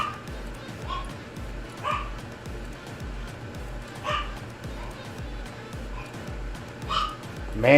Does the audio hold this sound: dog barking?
yes